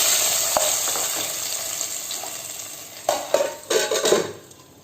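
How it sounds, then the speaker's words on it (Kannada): A hot dried-chilli and oil tempering is poured into a cooked taro stem dish, quiet background hiss at first, then sharp bursts of loud sizzling and spattering mixed with utensil clatter before fading. "ಈಗ ಒಗ್ಗರಣೆಯನ್ನು ಹಾಕ್ತಾ ಇದ್ದೇನೆ."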